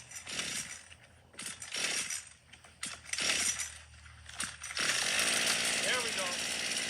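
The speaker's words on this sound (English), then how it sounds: "That's not the best weed whacking I've seen done in 3 years." A gasoline weed whacker running on fuel made from plastic waste, heard after several bursts of talk; it settles into a continuous buzzing drone that stays loud and steady to the end.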